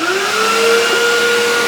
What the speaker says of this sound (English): vacuuming your floor in your garage.